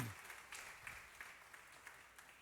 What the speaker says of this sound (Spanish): ¿No le damos un aplauso al Señor